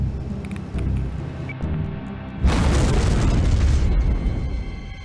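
A loud, sudden roaring blast of an aircraft engine exploding after takeoff bursts over a steady rumbling drone, then sustains as a heavy, noisy roar.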